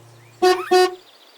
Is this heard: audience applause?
no